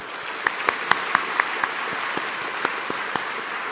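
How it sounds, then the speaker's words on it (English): Guests at a business chamber's year-end dinner applaud the staff, a sustained roomful of clapping with a few louder, sharper individual claps standing out near the front. "Let's give a big round of applause to our incredible staff for making this evening possible."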